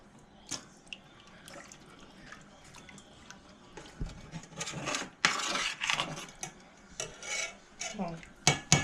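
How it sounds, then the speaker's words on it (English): A whisk stirs flour in a pan for gravy, starting with quiet faint scrapes and clinks, then building to louder, quicker metallic scraping and rubbing bursts close by. "I need to get my whisk."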